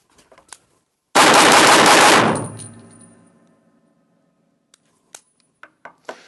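A handgun fired at targets from a seated position, one loud sharp blast ringing out and decaying over about two seconds, preceded and followed by small close handling clicks and clacks.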